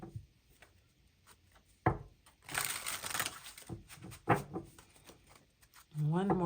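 Tarot cards shuffled by hand in brief rustling bursts, a longer riffling flurry in the middle and a few soft taps, with a voice speaking at the end.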